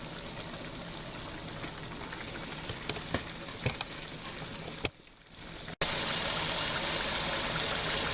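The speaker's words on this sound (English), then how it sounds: "y'all hear a sizzling sound. That means that the water is starting to evaporate" Pork skin cracklins sizzle in a frying pot of hot fat, a steady loud hissing crackle that briefly thins out, then returns at full strength.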